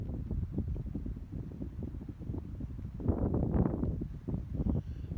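Gusty wind buffets the microphone in low, rumbling bursts in cold, snowy woods, swelling louder for a few seconds midway, with no voices.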